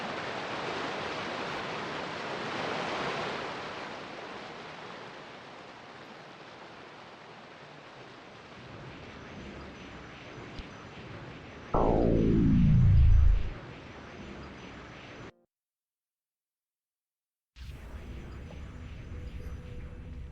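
Steady rushing roar of a waterfall in the VR role-playing game Vengeful Rites, broad and constant for a long stretch, then a short falling swoosh, a moment of silence, and the roar returning.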